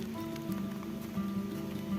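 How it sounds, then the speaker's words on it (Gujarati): Heavy rain falls steadily on a farm field, a soft even hiss with a low background hum throughout. "ભાઈઓ ફૂલ વરસાદ ચાલુ થઈ ગયો યાર હવે"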